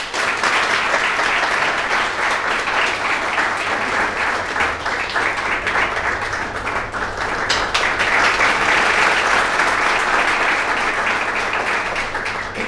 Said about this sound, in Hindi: आप लोग तालियां दीजिए।